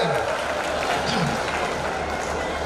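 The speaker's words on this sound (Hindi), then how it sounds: "जोर से ताली बजाओ" Audience clapping at a Hindi poetry gathering (kavi sammelan): a steady, dense wash of applause from a crowd, with voices speaking over it throughout.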